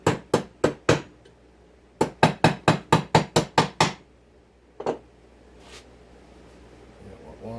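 A dead blow hammer taps a chainsaw crankshaft during a bottom-end rebuild of a Jonsered 2149, striking in quick close bursts of four and then about eight sharp blows, followed by a couple of isolated knocks and faint handling sounds.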